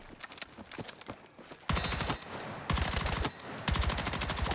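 Automatic weapon fire in the video game Battlefield 6, rapid bursts of close, loud gunshots in three sustained volleys after quieter scattered shots.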